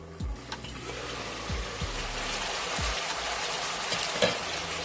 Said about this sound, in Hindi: और इसको मैं अच्छी तरीके से भूनूंगी, तकरीबन 5 मिनट।